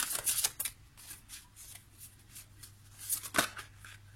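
Oracle cards are shuffled by hand and drawn from the deck, a quiet close series of soft riffling flutters and slaps with a sharper snap toward the end.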